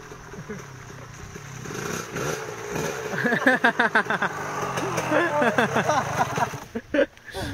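A two-stroke trail motorcycle revs on a muddy off-road trail, its engine note rising and falling in repeated throttle blips over steady running, with people talking close by throughout.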